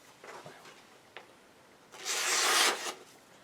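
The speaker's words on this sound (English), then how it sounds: "Will your knife cut paper?" A production knife slices through a sheet of paper in one smooth, rasping cut lasting about a second, close and clear, preceded by a few soft rustles of paper handling.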